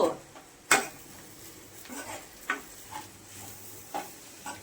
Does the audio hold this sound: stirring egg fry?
yes